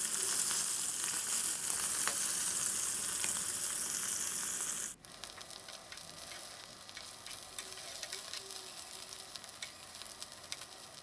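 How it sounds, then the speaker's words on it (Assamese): Small fish frying in mustard oil in a hot wok give a loud, steady sizzle for about five seconds, then the noise drops sharply to a quieter crackle with scattered pops. "মই মিঠাতেল দিছোঁ আৰু মাছখিনি এতিয়া ফ্ৰাই কৰি ল'ম।"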